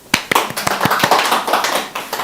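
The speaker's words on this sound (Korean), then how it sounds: "박수!" Small audience at a Korean talk clapping, opening with a few sharp, separate claps that quickly fill into steady, close applause from a modest group.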